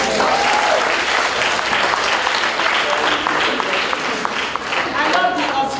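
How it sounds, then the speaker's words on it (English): An audience at a school debate competition claps, a full, continuous burst of applause that stays loud and even throughout without letting up. "Can you clap for GC Foster?"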